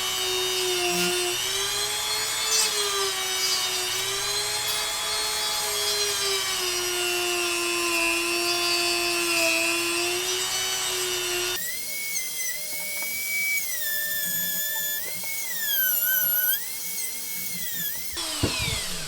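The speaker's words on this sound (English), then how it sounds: "you just, again, cut through it with a Dremel" A Dremel rotary tool grinds through a GoPro Hero 10 case and its metal pin. A loud, continuous whine holds steady, then shifts to a higher, wavering pitch partway through as the cut changes.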